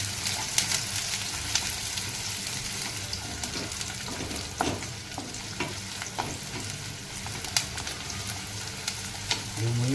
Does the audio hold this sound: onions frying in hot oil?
yes